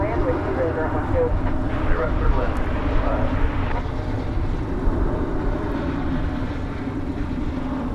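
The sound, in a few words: Embraer 175 airliner taking off, American Eagle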